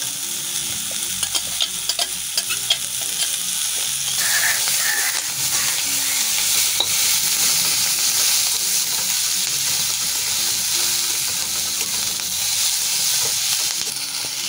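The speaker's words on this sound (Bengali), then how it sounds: "চিকেনের মধ্যে আমার একটুখানি হাড়ের মতো ছিল, আমি সেটাকে এর সঙ্গে নাড়াচাড়া করে দিচ্ছি" Chicken pieces with a bit of bone stirred in a hot pan for Sikkim-style momo filling, a loud continuous sizzle and hiss with repeated scraping spoon strokes close by.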